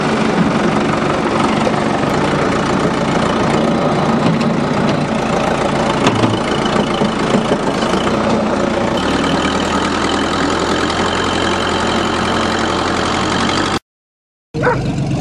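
A Buick car engine idles loudly and steadily up close, a continuous rumbling drone with a slight shift partway through before cutting off abruptly near the end.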